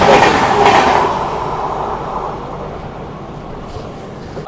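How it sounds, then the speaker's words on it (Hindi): An Anand Vihar Haldia Superfast express train passes close by, a loud rolling rumble and rattle of wagons that is strongest at the start and gradually fades as the cars go by. "ये है भाई अपनी आनंद विहार हल्दिया सुपरफास्ट"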